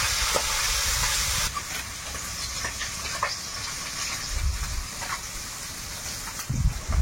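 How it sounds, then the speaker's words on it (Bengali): Fish fry in hot oil during an outdoor Sundarban-style cook, giving a steady, fairly faint broadband hiss and sputter with a few louder low bursts, and no talk. "এবারে মাছগুলো দেবো, আর একসঙ্গেই ভেজে নিচ্ছি"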